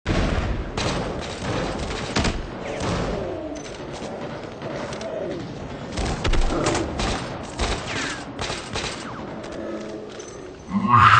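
Battlefield 4 gunfire crackles in dense, rapid bursts throughout, with heavy booms and thuds layered over a constant busy game-battle background, loud and close with a sharp surge at the end.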